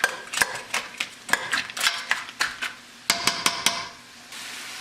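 A spoon clatters and scrapes against a pot as vegetables and lobster shells are stirred into a bisque stock, giving a series of sharp metallic knocks with short pauses between them and no voices.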